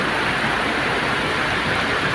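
Heavy rain falls steadily in a Filipino rainy-season downpour, a dense, even hiss that holds at constant loudness with no breaks or voices.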